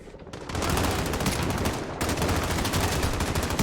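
Sustained rapid automatic gunfire from the video game Call of Duty Modern Warfare, loud and dense, briefly breaking near the two-second mark before resuming.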